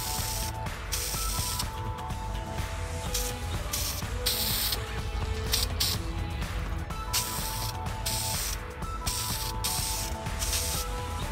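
Spray paint hisses in repeated bursts as anodized-style paint is applied to a Honda Civic fuel rail, steady and close, with short pauses between passes and faint mechanical clicks.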